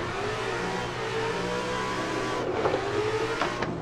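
BMW E36 car in the Assetto Corsa sim drifting game, engine revving steadily at a moderate level with a brief dip and tire scrub near the end, no voices.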